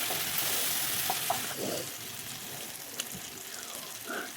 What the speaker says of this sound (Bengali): দিচ্ছি লবণ, হলুদ, আর দেবো জিরের গুঁড়ো, লঙ্কার গুঁড়ো, দিয়ে আগে একটু কষিয়ে নেবো ভালোভাবে।